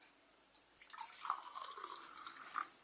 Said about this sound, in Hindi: अभी इसके अंदर हम बारिश का पानी, मान लीजिए पानी डाल रहे हैं